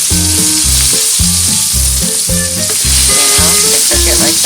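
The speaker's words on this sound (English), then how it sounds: "saute on medium until they're done cooking" Food sautéing over medium heat in a pan, a steady loud sizzle running throughout with repeated rhythmic stirring or scraping strokes on top.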